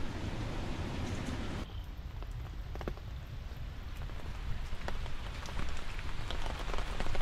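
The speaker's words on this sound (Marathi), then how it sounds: "मित्रांनो, भरपूर पाऊस पडत आहे." Heavy rain pours down steadily in a rural vegetable-farming village, a dense close hiss with individual drops pattering on surfaces, unbroken throughout and with no voices.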